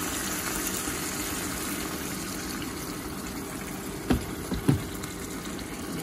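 Boiled water poured into a pan, a steady gushing splash close by, with a few brief clunks of the pot near the end.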